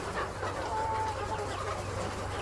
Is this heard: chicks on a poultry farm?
yes